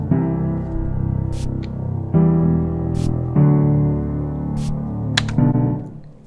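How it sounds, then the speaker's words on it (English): A spray can's hiss used raw as a drum sample, short bursts of airy noise cutting in over a looping tonal music bed, several bright hits spread across the bar with no added effects. "Here's the spray without any effects."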